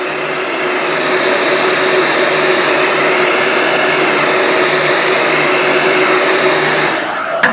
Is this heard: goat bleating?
no